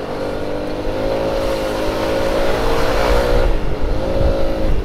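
Angkot minibus on route 43 in Purwakarta heard from a motor scooter on the road, a loud, close engine drone with traffic noise and a rising and falling whine as it passes.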